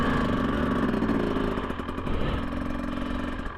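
A motorcycle on studded tires rides over snow on a bumpy path, its mid-pitched engine running close and steady with a light rattling clatter mixed in.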